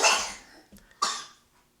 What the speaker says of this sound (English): See, that's what I be coughing like